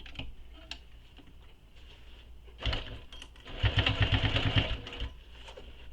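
A domestic sewing machine runs a short burst of stitches attaching binding through layered fabric on a quiver sling, a steady mechanical whir near the mic, with quieter ticking handling sounds before and after.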